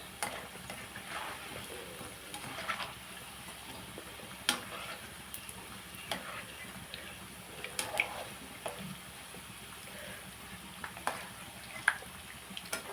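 Bajji fritters made from idli batter frying in hot oil, a steady quiet crackle with scattered sharper pops and spits throughout, no voices.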